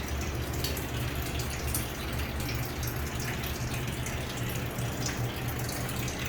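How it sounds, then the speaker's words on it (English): Water running and dripping from a shower in a tiled RV park men's room, a steady faint wash with occasional drops, no voices. "Somebody left the shower dripping."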